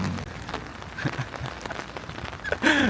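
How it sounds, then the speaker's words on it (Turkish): Heavy rain hisses in a dense, steady wash with scattered close drops spattering, and a voice briefly breaks in at the end. "Çok fena yağmur var arkadaşlar ya."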